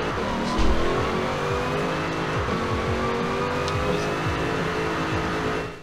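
Jeep Trackhawk engine in Forza Horizon 4 launching hard, a loud revving roar that climbs through several gear changes with rising and falling pitch, close and continuous over a brief tire squeal.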